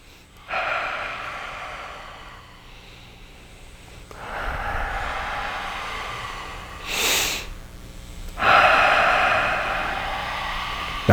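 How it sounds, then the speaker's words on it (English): Deep breaths drawn in and out during a guided meditation-style breathing exercise, three long loud airy swells with quiet gaps between, close to the mic and alone without talk. "Breathe."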